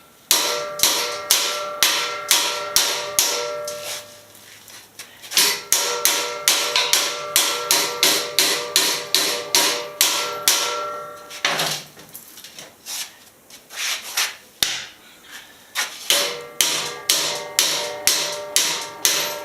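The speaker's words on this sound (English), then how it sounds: "Old hammer, but it works." A hammer taps metal in steady, quick runs of sharp strikes, pausing briefly between bursts; close and fairly loud, with no talking.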